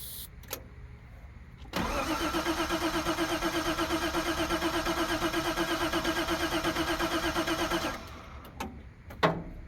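A Datsun engine, primed with starting fluid, cranks steadily on the starter for about six seconds with a fast, even chugging rhythm, loud and close, bracketed by brief clicks and knocks, with no speech over it.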